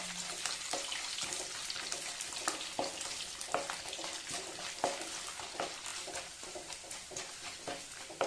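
Handful of garlic frying in oil in a clay pot for a village-style fish curry, giving a steady, close hiss of sizzling with dense crackles and pops throughout, no voices.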